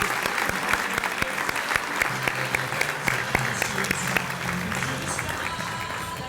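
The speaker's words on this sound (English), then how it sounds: "Please join me in giving a huge round of applause to Mr." Steady applause from an audience at a United Way annual meeting, honoring a county award recipient; dense, continuous clapping with crisp individual claps throughout, fairly close and sustained for several seconds.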